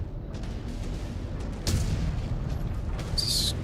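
Missile launches and explosions in the Mechwarrior 5: Clans video game, a low rumbling bed broken by a sudden booming burst midway and a bright hissing streak near the end, moderately loud.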